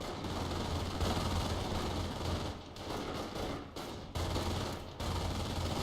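Machine-gun fire rattles in a World War II real-time strategy game, with rolling bursts of shots layered over a dense battle din at moderate distance.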